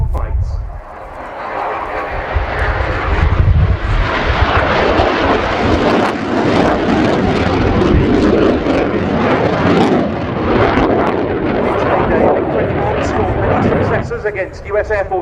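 A Romanian Air Force MiG-21 LanceR C fighter roars past during an airshow flying display at RIAT 2019, its loud jet engine building into a sustained, dense roar for most of the clip before easing off near the end.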